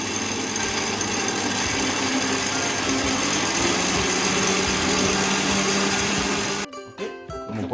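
Electric mixer whipping eggs and sugar for a mocha cake batter, a steady loud motor whir with beating rattle that runs continuously for most of the clip, then stops abruptly near the end, leaving brief clatter.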